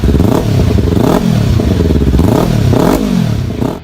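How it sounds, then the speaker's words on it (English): A Kawasaki Versys-X 300 motorcycle engine revs up and down repeatedly, several loud rising and falling sweeps heard close, with a mechanical clatter underneath and no talking. "The Kawasaki Versys-X 300."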